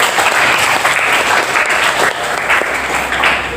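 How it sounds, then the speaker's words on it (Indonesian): A classroom group claps for a student, a loud, dense and continuous patter of applause lasting a few seconds with no talking over it. "Kita berikan tepuk tangan untuk Bagus."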